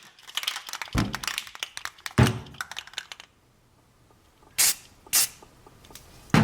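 Spray paint hissing onto a small screw in a few short bursts, with clattering handling knocks before them and near silence in between.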